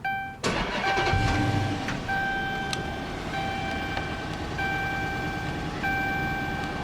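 A 2013 Dodge Charger police car with a 5.7 HEMI V8 and 116,000 miles push-starts with a quick crank that catches into a loud roar, then settles into a steady idle while warning chimes ring over it.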